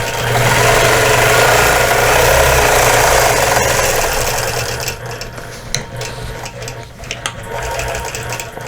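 A quilting machine stitching in stitch-regulated mode, a loud, close, steady mechanical hum and whir that eases off partway through into lighter, intermittent ticking and rattling.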